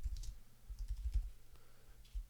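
Quiet typing on a computer keyboard, a loose run of soft key clicks with uneven gaps, faint and close with no talking.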